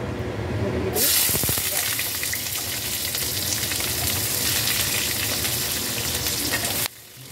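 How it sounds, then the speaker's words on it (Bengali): Finely chopped onions dropped into hot refined oil, bursting into a loud, dense sizzle that holds steady and close, with stirring clatter, before cutting off abruptly near the end. "সেই পেঁয়াজগুলো ভেজে নেব।"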